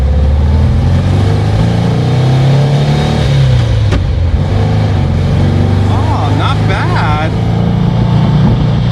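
A hot-rodded 1958 Porsche 356 Speedster with drum brakes pulls away and accelerates, its engine note rising and shifting through gears close up and loud, with some rushing wind noise.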